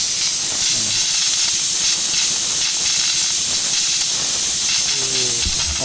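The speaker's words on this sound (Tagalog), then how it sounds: "medyo pinapasingaw ko lang konti bago ko talaga tagtagin" Steam hisses loudly and continuously as a pork leg is steamed for crispy pata, a dense unbroken spray of noise close up.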